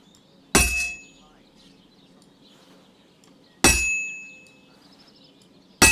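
A hammer strikes an anvil at a forge in Tachau in the video game Kingdom Come Deliverance 2, giving loud, ringing metallic clangs spaced a few seconds apart, each decaying before the next blow.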